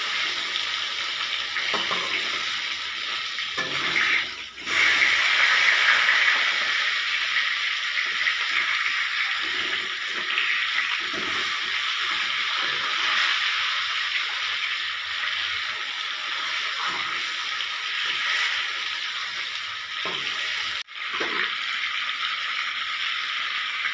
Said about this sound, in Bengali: এইভাবে আমি মাছগুলোকে ভেজে নিচ্ছি।